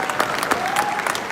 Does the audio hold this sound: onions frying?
no